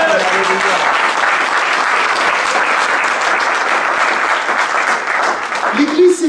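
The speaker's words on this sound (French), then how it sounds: "Quelqu'un acclame le Seigneur" A church congregation breaks into sustained, loud applause praising the Lord, a dense clapping roar that holds steady, with a voice briefly at the start and end.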